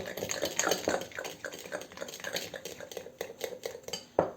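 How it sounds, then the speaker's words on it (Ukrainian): Zucchini batter with sour cream being stirred in a bowl, a close run of rhythmic scraping and clinking of a utensil against the dish, ending in a sharper knock. "І знову розмішуємо"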